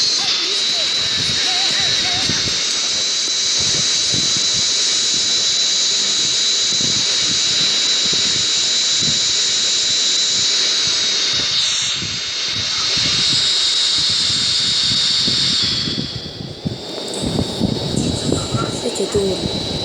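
A jet airplane engine gives a loud, continuous roar with a thin high whine on top, holding steady for most of the stretch before easing and turning rougher near the end.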